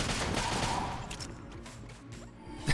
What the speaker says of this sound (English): That was a lot of explosions very quickly